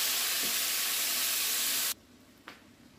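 Steak pieces sizzle loudly in a hot pan with a broad hiss for about two seconds, then the sound drops away abruptly, leaving one faint scrape or tap.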